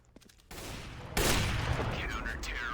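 Gunfire in Counter-Strike, a loud crack followed by a sustained noisy rumble of shots and echo. Faint game sounds are heard before it.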